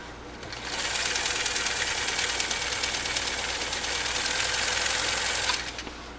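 A Kenmore 158.904 sewing machine runs a steady straight stitch through 18-ounce cowhide leather, a smooth, even motor whir with a fast rapid needle clatter lasting about five seconds, close and alone.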